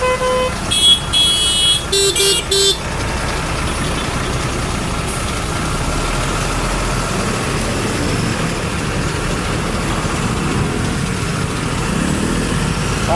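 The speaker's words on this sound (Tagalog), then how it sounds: "Ganito yung sitwasyon ng traffic, ang hirap talaga bumiyahe." Busy road traffic surrounds a moving motorcycle, a steady loud roar of engines and wind with a couple of short horn toots near the start.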